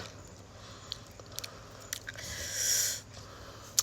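Soft, chewy Japanese sweet potato snack being chewed close to the mic, with quiet irregular bites, light crunches and a brief louder squishy rustle, no talk.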